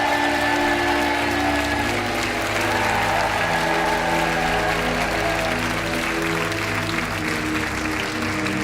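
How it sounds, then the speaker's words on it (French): Sustained, loud studio audience applause from a French game show, a steady dense wash of clapping with cheers that holds evenly throughout. "vous repartez, mais sous les applaudissements du public."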